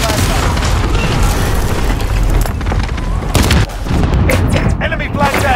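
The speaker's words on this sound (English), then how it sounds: "Priming explosives." Explosives and gunfire in Call of Duty Modern Warfare multiplayer on Xbox One X: loud booms and sharp bursts crowd together in a dense battle mix, with a heavy detonation near the middle and steady background combat.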